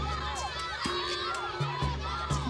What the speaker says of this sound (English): we can hear the screams of farmers and their kids shouting at the elephants